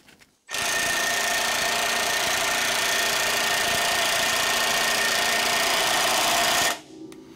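Impact wrench driving a press to install a ball joint on a Toyota, a loud, steady, continuous whirring hammer for about six seconds before cutting off abruptly.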